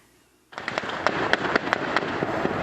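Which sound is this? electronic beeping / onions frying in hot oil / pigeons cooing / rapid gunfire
rapid gunfire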